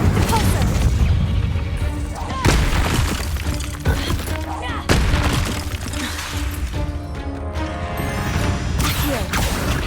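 Spells such as Incendio, Accio and Repulsor cast in the Hogwarts Legacy video game, a dense, loud run of booming blasts, crashes and shattering bursts layered over continuous game music and effects.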